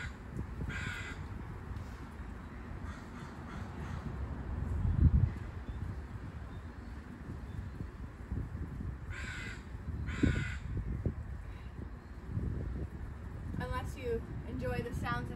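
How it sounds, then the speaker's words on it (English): Crows caw outdoors in a few clustered bursts of repeated calls, moderately close, over a steady rumbling background of wind and distant traffic. "Lots of crows."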